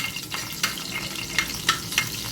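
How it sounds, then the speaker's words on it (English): Chilies stirred quickly in a hot pan at the start of an egg bhurji, giving a close, steady sizzle broken by four or five brisk scraping strokes of a spatula, with no voices. "Okay, so we're going to do a quick stir."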